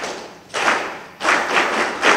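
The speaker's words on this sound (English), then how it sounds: "Please let's give him a big round of applause" An audience at an agritech exchange forum breaks into applause in bursts, a dense patter of clapping that swells, dips briefly and rises again, fairly close.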